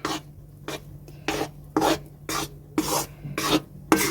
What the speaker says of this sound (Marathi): यालाही मंद आचेवर आपण आणि परत भाजून घेऊया